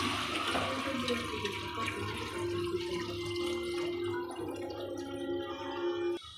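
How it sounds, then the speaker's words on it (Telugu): Water pouring steadily into a cooking pot for Ramzan special biryani, a continuous close splashing and gurgling fill lasting the whole stretch with no talk. "ఇప్పుడు ఎసరు వేసుకుందాం."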